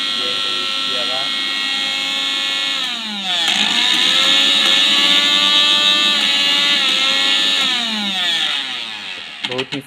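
Prestige Stylo 550 mixer grinder running with its small jar empty: a loud, steady motor whine rich in high harmonics, rising and falling in pitch a few times as the speed shifts, with no pause across the whole stretch.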